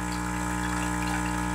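DeLonghi all-in-one coffee and espresso machine pumping water, a steady loud mechanical hum with a rushing flow, continuous and close.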